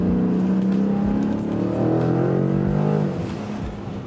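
A 2020 Dodge Challenger 392 Scat Pack T/A with a muffler delete revs loud and close, its deep engine note climbing then easing off, with no talk over it.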